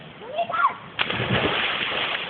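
A person jumps into water at an outdoor swimming spot in Calauan, Laguna, landing with a single loud splash followed by sloshing, with people's voices nearby around the jump.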